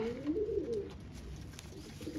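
Ferozpuri pigeons coo, with a clear, close warbling coo early on, then fainter low calls, all at a quiet level with no talking.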